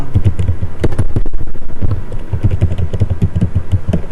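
Quick, steady clicks of fingers typing on a computer keyboard, close and fairly loud, forming an even rhythm of keystrokes with no voices over them.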